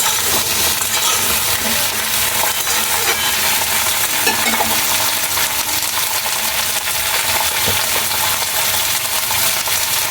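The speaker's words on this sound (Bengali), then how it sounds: "সবজিগুলোকে খুব ভালোভাবে ভেজে নেব।" Vegetables for a vegetarian spinach dish fry steadily in a pan, with a continuous close sizzle and occasional stirring clinks throughout, no talking.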